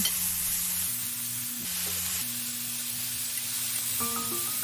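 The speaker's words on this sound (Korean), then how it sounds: "고기가 어느 정도 익으면 버섯 몽땅 넣어주세요." Meat and mushrooms stir-fry in a pan for japchae, a steady hiss of sizzling running throughout under soft, sustained background music tones.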